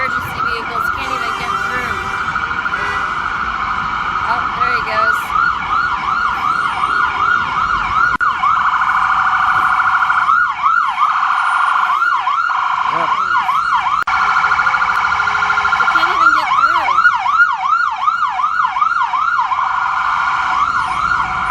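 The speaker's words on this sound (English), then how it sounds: "Sirens and horns and whistles." Wailing emergency sirens rise and fall continuously over loud, heavy New York City traffic noise, with several sirens overlapping and cycling rapidly, close and sustained throughout.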